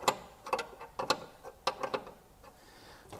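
A spanner tightening a copper brake pipe fitting on a Triumph Spitfire, a close, quiet series of irregular metallic clicks and ratcheting ticks in short bursts.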